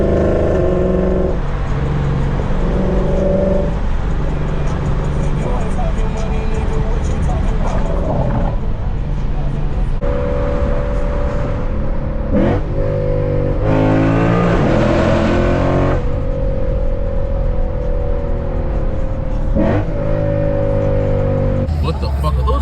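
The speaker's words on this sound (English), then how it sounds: "Yo, this car is fucking popping." A Lexus RC F V8 with an FBO tune booms loudly from inside the cabin while driving, revs rising and falling through shifts with rough crackling bursts from the exhaust between pulls.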